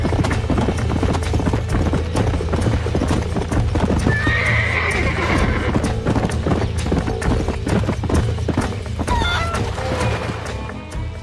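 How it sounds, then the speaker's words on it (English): Steady clip-clop of trotting horse hooves in the video game Red Dead Redemption, fairly loud and close, with a horse whinnying partway through amid rustling and clatter. "These are fine horses."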